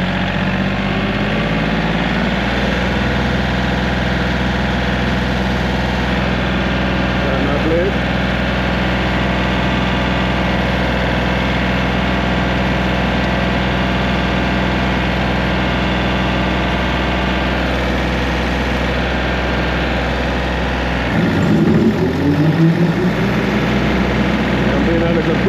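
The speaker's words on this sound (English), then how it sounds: "So I can adjust my engine." An engine idles steadily and loudly up close with a constant low rumble and vibration, then shifts in tone near the end, as if being adjusted.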